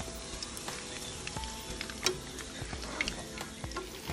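Steady, quiet sizzling of chicken pieces frying in hot oil, with occasional crackles and pops throughout.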